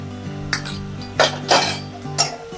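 Turmeric is sautéed in a pan while cooking poha, with a few sharp metallic spoon clinks and scrapes against the pan, close and short, over a faint steady hum.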